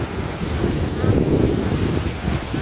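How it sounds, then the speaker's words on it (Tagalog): Wind buffets the microphone over the low, rolling roar of rough sea waves near Antonia Island in the Gigantes Islands, a continuous rumble outdoors, with faint murmuring voices. "Ay mahangin, tas malon."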